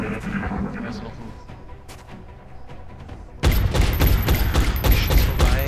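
Gunfire in XCOM: Enemy Within, with scattered shots under someone talking before a loud, sustained burst of rapid automatic fire and crackling impacts takes over.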